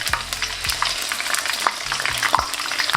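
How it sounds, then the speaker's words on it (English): Sliced aubergines sizzle and crackle steadily in hot oil with spring onion whites, a close, continuous frying hiss broken by occasional stirring knocks. "In the hot oil, throw in some of the spring onion whites."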